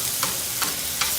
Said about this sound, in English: you see our ground beef is browning nicely